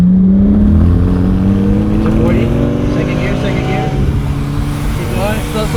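Nissan Altima engine accelerating hard in second gear, a loud sustained drone with rising harmonics, mixed with road and wind noise; a voice talks over it.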